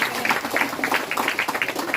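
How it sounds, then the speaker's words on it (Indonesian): A congregation at a thanksgiving Mass celebrating an inauguration into Brimob in Nufuak claps together, a close, steady wash of many hands that keeps going for the whole two seconds. "tepuk tangan dulu"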